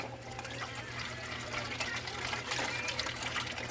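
Tap water pours steadily into a basin at a kitchen sink during dishwashing, a continuous close rushing splash that swells slightly toward the end, with no voices.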